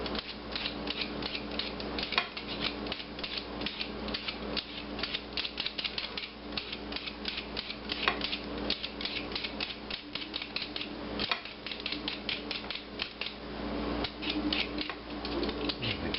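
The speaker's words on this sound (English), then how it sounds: "these nice little potato or vegetable peelers, they're really quick if you learn to use them right" A potato is peeled with a handheld vegetable peeler, giving quick, rhythmic scraping strokes that repeat steadily and close up, with no talk over them.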